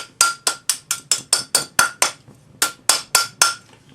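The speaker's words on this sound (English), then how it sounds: "bracelet mandrel using a rawhide hammer." A rawhide hammer strikes a metal cuff bracelet on a bracelet mandrel about fifteen times, each blow close and crisp with a bright metallic ring, in a steady rhythm with one short pause.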